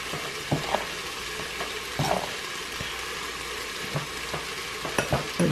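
Meatball sauce with garlic is stirred in an Instant Pot, with a spoon scraping and knocking against the pot at irregular intervals over a steady low sizzle.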